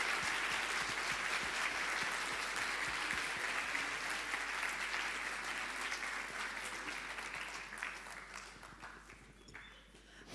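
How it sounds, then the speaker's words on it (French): Audience applause for a lecturer after a talk on Walloon and Brussels expressions at a bookshop: warm, sustained clapping from a seated crowd, steady for most of the stretch before gradually thinning and fading out. "Que je vous propose donc d'applaudir encore très chaleureusement."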